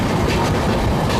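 The Basava Express train running on rails as it enters Pandavapura station, a loud, steady close-up rumble with rhythmic clickety-clack from the wheels and no voices.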